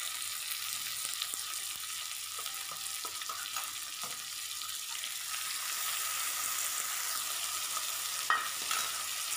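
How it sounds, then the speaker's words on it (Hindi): A paste of ginger, garlic, green chili, black pepper and cumin fries in a pan for a village-style lunch. A soft continuous sizzle sits under scattered scraping clicks of stirring, with no talking. "अब मसाला को भी थोड़ा सा फ्राई कर लूँगा।"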